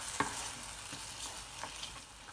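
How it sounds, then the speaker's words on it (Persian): A spoon stirs cream into a simmering mushroom sauce in a pan, with a few faint scrapes and taps over a soft, steady sizzle. "خامر رو اضافه میکنیم. کامل به هم هم میزنیم."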